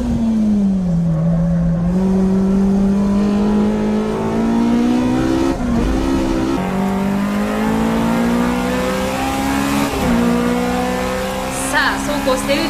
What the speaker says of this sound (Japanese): トップを行くのはオーガ AE86、 シビック R の宮地を従い目いっぱいの走り。